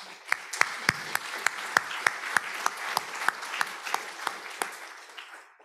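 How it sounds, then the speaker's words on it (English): Sparse, distinct hand claps from a modest audience at an international forum's opening plenary, somewhat distant, each clap standing out individually. "Let's give them all a round of applause."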